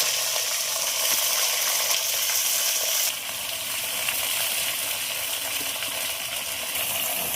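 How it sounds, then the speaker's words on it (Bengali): Vegetables fry in a tempering of dried red chilli, bay leaf and five-spice seeds, giving a steady, loud hiss of sizzling oil that runs through the whole stretch, with a slight drop in intensity partway through. "ফোড়নে দেবো শুকনো লঙ্কা, তেজপাতা আর 5 ফোড়ন। সবজিগুলো দিয়ে দিলাম"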